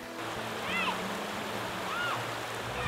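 River water flowing steadily where people rinse off mud, a continuous close wash of water with faint high chirps rising over it twice.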